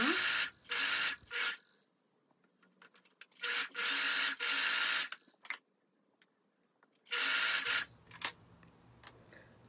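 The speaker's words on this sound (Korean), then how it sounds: "아몰과 네크라인을 제외하고 모든 가장자리에 오버록 스티치를 해줍니다." An overlock sewing machine serges the edges of blouse pieces, every edge except the armholes and neckline. It runs in three loud, buzzing bursts, with quieter handling and fabric shuffling between them.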